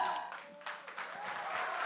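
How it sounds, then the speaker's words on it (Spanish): Audience applause at a church family day celebration, a wash of clapping that swells midway and holds, fairly faint and distant. "Bravo, fuerte aplauso."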